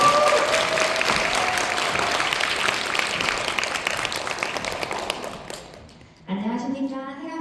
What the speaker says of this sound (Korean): 안유진 사장님 올라오실 때 박수 부탁드리겠습니다.